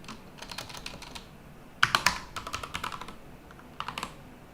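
Computer keyboard typing during a live programming session, bursts of quick, close key clicks with a sharper flurry midway and a few scattered taps near the end, no talking.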